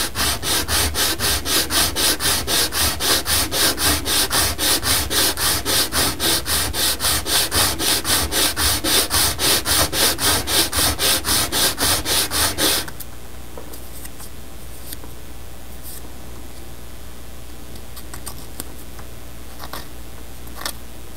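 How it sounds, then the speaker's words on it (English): Sandpaper is rubbed by hand along the edge of a wooden wall flat in quick, even back-and-forth strokes, loud and close, for about thirteen seconds. Then it stops, leaving only quiet room tone. "And I'm going to sand this so that I don't have this little lip here."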